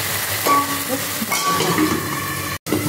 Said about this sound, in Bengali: আদা, টমেটো, কাঁচা লঙ্কার পেস্টটা দিয়ে দিচ্ছি। এবার এটাকে একটু নেড়ে চেড়ে ঢাকা দিয়ে রাখবো